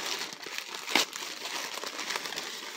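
A mail package from AliExpress is ripped open by hand, giving close crinkling and tearing of plastic packaging with one sharp louder rip near the start, and no talk.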